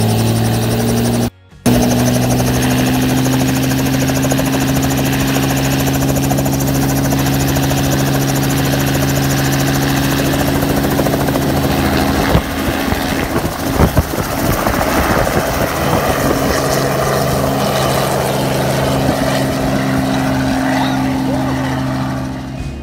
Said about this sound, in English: We're about to ride this helicopter.